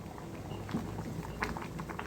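Lentils with sambar powder simmer in a pot, giving a steady soft bubbling and popping with small irregular blips, close and fairly quiet with no voices.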